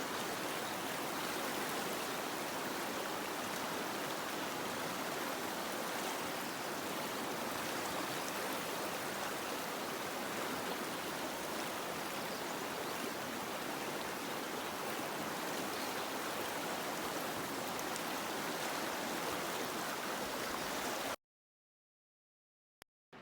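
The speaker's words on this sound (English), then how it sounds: "So that's the Hoback River." The Hoback River rushes steadily in a canyon, a dense, even roar of flowing water heard alone and up close for about twenty seconds before cutting to silence.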